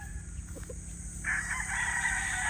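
A rooster crows loudly and close, a drawn-out call rising over a steady low hum, with a brief cluck just before it.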